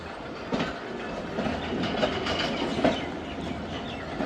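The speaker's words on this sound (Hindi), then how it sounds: "ट्रेन रवाना हो चुकी है लोधरा जंक्शन से" The Khyber Mail passenger train pulls out of Lodhran Junction, with a steady rolling rumble, clickety-clack wheel beats and a faint metallic squeal close by, alone without talk.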